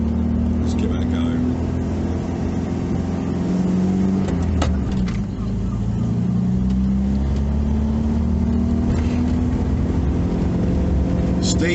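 An old car labors uphill toward a car park, its engine a steady, loud low drone that holds strain throughout, with voices talking over it at times.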